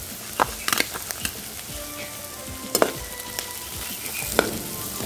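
Vegetables sizzling in a pan with butter and pre-boiled corn for a desi-style red sauce pasta, a steady fry hiss broken by scattered sharp crackles and the scrape of stirring.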